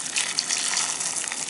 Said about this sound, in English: And then you're gonna pour some hot water.